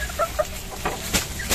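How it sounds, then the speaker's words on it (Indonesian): A Bangkok fighting rooster clucks and calls in short bursts close by, with a few sharp vocal notes over a noisy outdoor background. "Ayam bangkok ini guys. Itu bangkok petarungan."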